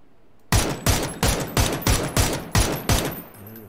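Eight loud single gunshots from PUBG, a duo battle-royale shooter, fired in a fairly even rhythm about a third of a second apart, each sharp and close with a brief echoing tail.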